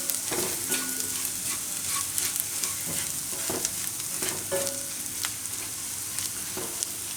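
Onions sizzle steadily in a pan with curry leaves and coriander-cumin powder while a spoon stirs and scrapes the pan in an uneven rhythm, heard close with no talking.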